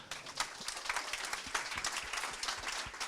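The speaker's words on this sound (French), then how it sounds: "On peut également les applaudir." Moderate applause from an evening event audience, a steady wash of many hands clapping at medium distance, continuous with scattered sharper claps standing out.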